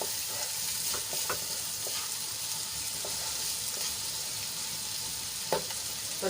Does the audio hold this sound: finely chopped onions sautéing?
yes